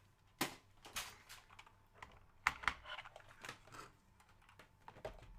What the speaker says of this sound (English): It's a mechanical keyboard, which means it's got actual little switches rather than membrane